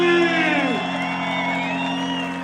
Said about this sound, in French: On a une bonne applaudissement!